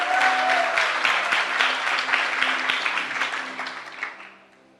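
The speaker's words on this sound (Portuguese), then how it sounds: "Uma salva de palmas para o Eric." A church congregation bursts into warm applause for a member's birthday, a dense wash of clapping that holds strong, then thins and fades away near the end.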